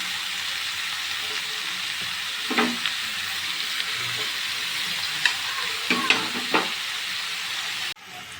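Chopped spinach is stirred into chicken frying in a pan, a constant sizzle with a few scraping stirs of the spoon, close and fairly loud.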